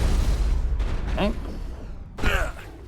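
Gunfire and combat explosions in the video game Mass Effect come in bursts and booms, mixed with other game sounds and heard close and fairly loud.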